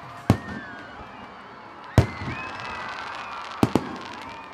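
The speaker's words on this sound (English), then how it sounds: "Fireworks." Fireworks at the Mysore Dasara festival: three sharp loud bangs spaced over a few seconds, each followed by crackling bursts and a faint rising whistle, heard from a distance against quiet background.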